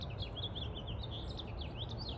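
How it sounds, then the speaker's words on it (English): Birds chirp repeatedly in quick, high calls, a steady alarm chorus warning of a squirrel, over a constant dense wash of garden or jungle background noise. "The birds are warning him."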